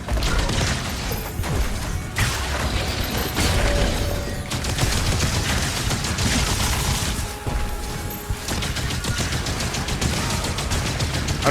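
Continuous, heavy gunfire rages in Doom: The Dark Ages, loud rapid bursts of shots layered with mechanical clanks, crashes and thuds that barely let up across the whole stretch.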